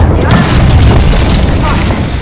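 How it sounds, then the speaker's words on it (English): Thermite grenade going off in the Apex Legends video game, a loud sustained booming burst with fiery crackle filling the whole moment, with players talking over it. "Thermite grenade."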